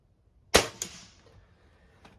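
A CFX air rifle fired during a shooting session gives one sharp, loud crack, a smaller snap right after, then a brief fading tail.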